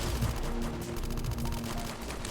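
Distant gunfire in the Metroid 2 remake video game comes as a steady, rapid rattle of shots, like machine-gun bursts, set in dense game ambience.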